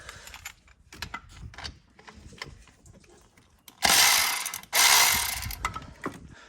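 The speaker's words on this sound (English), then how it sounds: "I'm going to loosen off the 2 bolts that allow the bracket to pivot on the front of the head" A ratchet loosening two bolts on an engine's belt bracket at the front of the cylinder head, with light clicking and fiddling, then two loud sustained rasping ratchet runs close by.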